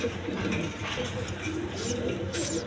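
A pair of pigeons coos steadily at close range, low rolling calls continuing across a busy, noisy background.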